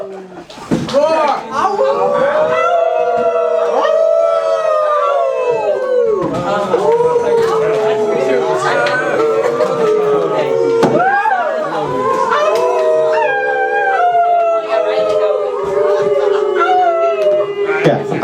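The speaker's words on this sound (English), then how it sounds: "The howling is good." Open mic audience howling like wolves, a loud, sustained chorus of overlapping wavering howls from many voices, punctuated by occasional slaps and thumps.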